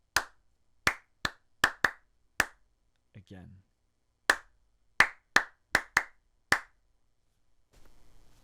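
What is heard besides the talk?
hand clapping a rhythm pattern twice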